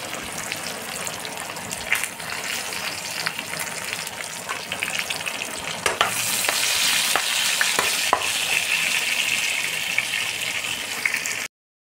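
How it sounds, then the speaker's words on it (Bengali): Long thin brinjal strips fry in oil with salt and turmeric, giving a steady close hiss of sizzling that swells louder midway, broken by occasional scrapes and stirs of a spatula. "বেগুনটা আমি অল্প নুন অল্প হলুদ দিয়ে আমি ভেজে নিচ্ছি।"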